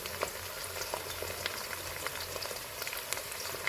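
Onion, garlic, ginger and green chilli paste frying in a pan for chilli chicken, a faint even crackle and hiss with scattered small pops and light stirring, no voices.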